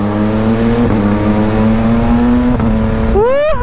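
An MV Agusta Stradale 800 motorcycle engine hums loud and steady while riding, then revs sharply upward near the end.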